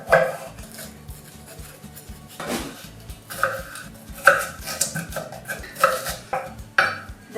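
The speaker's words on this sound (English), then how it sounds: "Now we're gonna cut the already washed veg into small pieces." A knife chops washed vegetables into small pieces on a board, a series of sharp, close cuts in uneven bursts with short pauses between them, no talking.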